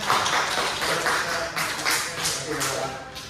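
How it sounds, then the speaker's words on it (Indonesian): Students in a classroom clap for their classmates during a history microteaching lesson, a short burst of scattered hand claps with voices audible alongside. "Tepuk tangan dulu buat teman-temannya"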